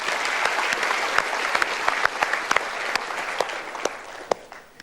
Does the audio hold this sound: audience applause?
yes